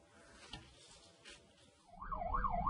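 An ambulance siren cuts in near the end, a wailing tone rising and falling in quick sweeps over rumbling traffic noise.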